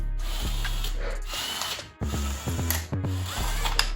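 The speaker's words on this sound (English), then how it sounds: "To remove those, what I'm using is an 8mm socket with a small extension." Screws being backed out with a power driver fitted with an 8mm socket and small extension, several short whirring bursts with brief pauses between them, close and fairly loud.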